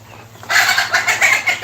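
A chicken clucks several times in quick succession, close and loud, with a low steady hum underneath.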